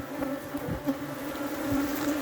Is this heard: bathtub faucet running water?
no